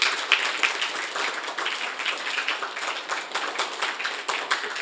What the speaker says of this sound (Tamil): அதுக்கு ஒரு கைத்தட்டல் உங்கள்கிட்ட நான் பெருசாக எதிர்பார்க்குறேன்.